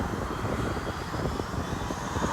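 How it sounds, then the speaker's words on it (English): Jet engines of a Ryanair airliner on the runway before takeoff, a steady broadband roar with a rising whine, heard continuously from a distance without voices. "The engines are beginning to whine."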